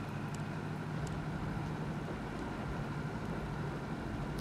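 A tractor engine in Ghost Recon Wildlands drones at a steady low idle-like rumble, continuous and moderately loud, with faint light clicks above and no voices.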